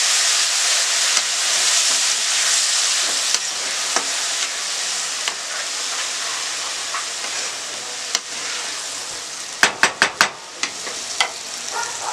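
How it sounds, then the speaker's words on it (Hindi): Tomato puree goes into fried dry spices in a hot pan for a bhindi masala gravy, a loud steady sizzle with scraping stirs and a quick run of sharp utensil taps near the end. "अब हम इसमें डालेंगे टमाटर की प्यूरी, अच्छे से मिक्स करेंगे।"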